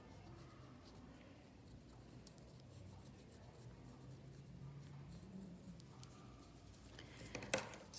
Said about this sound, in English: I'm going to trace around it with a pencil.